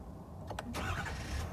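A 6.7 liter Power Stroke diesel engine in a 2020 Ford F-250 Tremor pickup cranks briefly, then catches and settles into a steady, low rumble.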